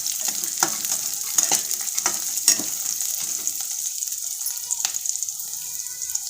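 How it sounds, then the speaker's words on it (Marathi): Roasted gram dal sautéing in hot oil for poha, a steady close sizzle and frying hiss broken by several sharp scraping stirs of a spoon in the pan, with no talking. "डाळे पण आपल्याला याच्यात व्यवस्थित चांगलं परतून घ्यायचं आहे."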